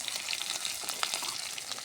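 Dried chili, cumin seeds and crushed garlic fry in hot oil, a soft, close crackling sizzle with scattered pops, fairly quiet and steady, no voices over it.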